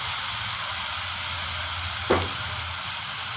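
Food stirred in a pan over a high flame gives a steady, loud frying hiss throughout, with one brief scrape of the utensil partway through.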